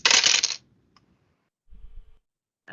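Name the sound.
dice rolled during a tabletop game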